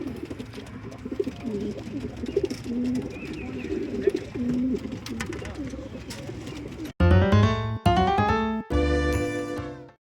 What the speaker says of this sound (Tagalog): ito po yung ating mga pinadalang ibon